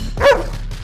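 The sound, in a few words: dog barking sound effect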